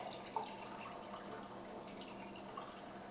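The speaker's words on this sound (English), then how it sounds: "now we can go ahead and pour some into these frosted mugs" Root beer poured from a pitcher into frosted mugs, a steady quiet stream of liquid with faint drips and trickles, close by and alone without talk.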